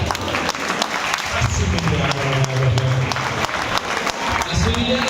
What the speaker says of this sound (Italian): Io vorrei un grosso applauso